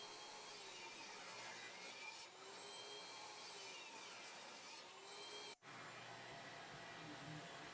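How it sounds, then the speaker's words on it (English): Table saw ripping 2x4 lumber into 2x2s, a steady whining blade drone with continuous cutting noise held throughout, a brief dip partway, heard faintly and alone without voices. "Next, I'll rip the 2 14-inch 2x4s into 2x2s on the table saw."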